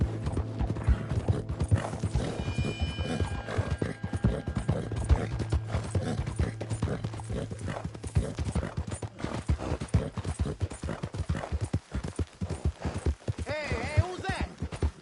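Horse hooves clip-clopping steadily at a riding pace in Red Dead Redemption 2, with an occasional whinny and game voices talking over the footfalls throughout.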